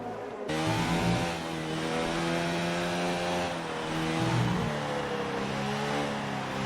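Racing car engine heard from on board during a driver test outlap, a steady loud drone that swells with revs and eases slightly as gears shift, running alone without talk.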